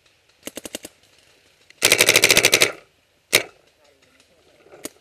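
Video-game gunfire at a shooting range: a quick burst of rapid shots, then a louder sustained automatic volley of about a dozen rounds, a single sharp crack later and a faint shot at the end, with quiet gaps between.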